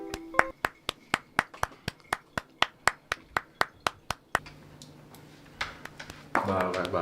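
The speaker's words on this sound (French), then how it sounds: "il ne peut s'empêcher de claquer des fesses de manière aléatoire" A string of about sixteen sharp, evenly paced slaps of buttocks clapping together, loud and close, then stopping; afterward a low hum lingers and talk with a swelling sound comes in at the end.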